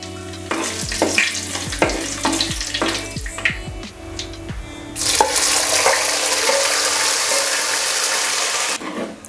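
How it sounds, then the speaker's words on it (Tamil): Mustard seeds and curry leaves spluttering in hot oil for a traditional Tamil fish curry, with loud crackling pops early on that give way to a steady, dense sizzle close by, no voices. "எண்ணெய் ஊற்றிக்கலாம். கடுகு போட்டுக்கலாம். கறிவேப்பிலை போட்டுக்கலாம்."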